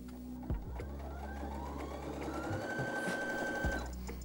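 Sewing machine fitted with a denim needle sewing a long straight stitch through two layers of denim, a close steady mechanical whir with faint thumps where the needle punches the thick fabric.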